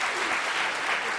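An audience at a church folk-customs and mission workshop claps together in a brief, steady burst of dense applause, even and sustained throughout.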